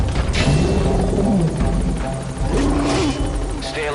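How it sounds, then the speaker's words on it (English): Helicopter touching down at a landing zone in Metal Gear Solid 5, a loud steady rotor roar filling the whole clip, with a voice speaking over it. "the chopper's touching down"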